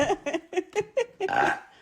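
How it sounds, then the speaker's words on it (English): A burp, a short series of throaty voiced bursts followed by a longer rough drawn-out eructation, close and fairly loud. "I wouldn't get a burp on the freaking recording"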